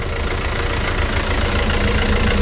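A Fiat 65.12 truck's 120-horsepower turbo diesel engine idles steadily nearby, a loud, continuous rumbling drone with a faint knocking texture and no variation.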